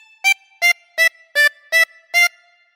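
A 24-hole tremolo harmonica plays a phrase of This Old Man as six short, evenly spaced reedy notes with a wavering tremolo, close and solo with no voices.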